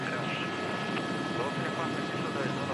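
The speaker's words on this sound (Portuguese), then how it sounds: "E o helicóptero, então, vai se aproximando para pouso." A Polícia Civil de São Paulo helicopter from the DEIC air tactical service approaching to land, its rotor and engine making a loud, steady, broadband drone that fills the whole stretch without a break.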